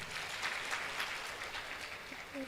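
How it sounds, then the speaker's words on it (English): An audience at a young professionals' colloquium in Katsina applauds, a steady dense wash of clapping at moderate distance with no pauses. "Please can we give him another round of applause?"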